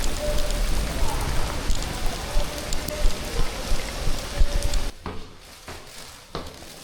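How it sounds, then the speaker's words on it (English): Heavy rain pours down on a city street, a loud, dense hiss of drops hitting surfaces that suddenly drops to a muffled, quieter patter, with a few scattered knocks. "But the rain is even heavier now."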